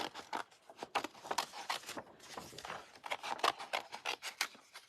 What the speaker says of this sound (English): need a scissors. I'm going to cut a couple of these out.